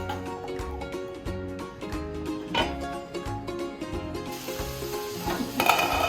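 Water chestnuts stir-frying in a pan, with a steady soft sizzle and repeated scraping and rubbing strokes of the spatula against the metal, fairly quiet and close.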